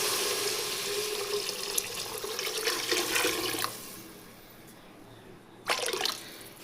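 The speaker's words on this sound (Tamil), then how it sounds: "இப்போ நம்ம வச்சுருக்கிற அந்த 2 லிட்டர் தண்ணி இதில் ஊற்றிடுவோம்." Water pours steadily with a rushing splash for a few seconds into a cooking pot, stops, then a brief second pour follows near the end.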